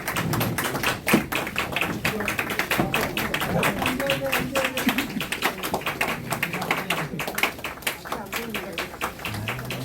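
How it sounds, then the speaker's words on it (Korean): Party members at a political press conference clap for a new member receiving flowers, close, uneven individual handclaps rather than a dense roar, with talking over them. "자, 우리 당원 여러분 박수 한번 주세요."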